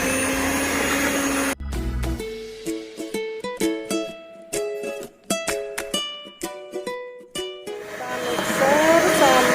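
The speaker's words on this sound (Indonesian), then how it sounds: "mixer sampai putih berjejak ya Bun." Electric mixer whirs steadily while beating eggs into sponge cake batter for a baked four-egg cake, loud at the start and again near the end, with a stretch of music in between.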